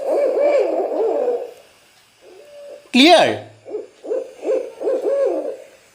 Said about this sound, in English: we have known the sound of owl hoot.